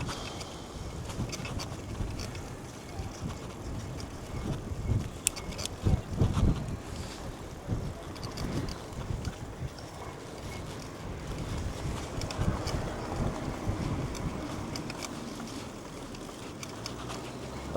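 Wind buffets the microphone while cycling along the coast at Brean, North Somerset, a gusty roar rising and falling in strong bursts, then easing toward the end.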